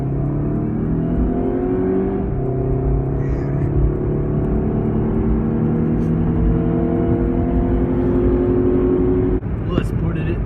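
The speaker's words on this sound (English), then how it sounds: "Loud Exhaust." A Chrysler PT Cruiser with a loud exhaust runs steadily, engine droning and rising in pitch as it revs and pulls, heard from inside the car with no talk over it.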